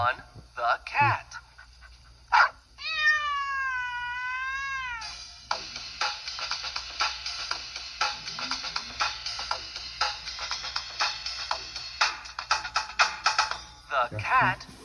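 A cartoon-style cat meow rises and falls in one drawn-out call, loud and upfront, followed by a busy stretch of music and voice.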